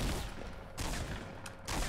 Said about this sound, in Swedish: Ja, det är skott igen, Uppe på taket alltså.